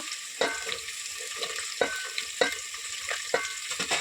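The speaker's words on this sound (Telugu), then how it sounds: "ఉల్లిపాయ కొంచెం ఎర్రగా అవుతుంది కదా ఇవి కొంచెం ఫ్రై అవనిద్దాము" Onions, green chillies and carrots frying in oil for vegetable bagara rice, a steady close sizzle broken by repeated sharp knocks and scrapes of a stirring spoon.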